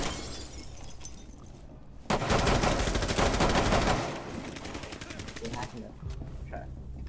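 Rapid automatic gunfire rattles in a video game shooter, a dense two-second burst of shots following quieter ambient noise, then fading into softer background rumble and a few faint distant sounds.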